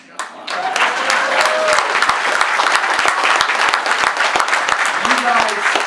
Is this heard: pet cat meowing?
no